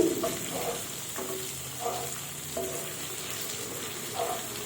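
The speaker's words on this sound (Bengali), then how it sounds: "আমি হালকা হালকা করে ঢাকিয়ে একটু একটু নাড়াচড়া করে ভেজে নিচ্ছি" Chicken pieces sizzle and fry in a pan while a utensil scrapes and stirs them every second or so, with a steady background hiss of oil and no speech.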